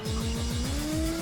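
A car in the PlayStation racing game Ridge Racer slides through a turn, its engine droning steadily with a rising pitch and a continuous tire squeal over it, loud and close.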